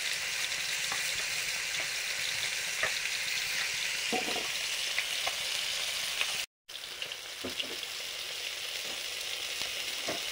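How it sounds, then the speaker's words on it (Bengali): Pieces of koi fish frying in a pan of oil, a steady close sizzle throughout with small pops and stirring clatter, briefly cut out for a moment midway. "মাছ ভাজা হয়ে গেল,"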